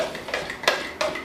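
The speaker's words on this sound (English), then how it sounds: "Stir everything around." Juice mix being stirred in a container after juicing with a Hamilton Beach Big Mouth Pro juicer, giving a few soft clinking taps of a utensil against the vessel, close and fairly quiet.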